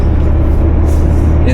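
Steady low rumble of an old Mercedes-Benz W123 diesel car driving along a tree-lined road, loud and constant from inside the cabin.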